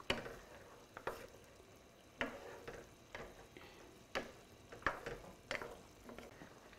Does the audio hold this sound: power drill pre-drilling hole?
no